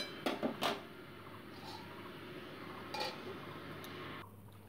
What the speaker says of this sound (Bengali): এবার আমি লিড চাপা দিয়ে মোটামুটি 2 মিনিটের জন্য ফুটিয়ে নিচ্ছি ঝোলটা